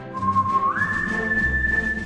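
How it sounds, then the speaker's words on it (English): A person whistles a single clear sustained note that glides upward to a higher pitch and holds there, close and steady, over a low background murmur. "which of them instructed their members to smile and whistle under all circumstances?"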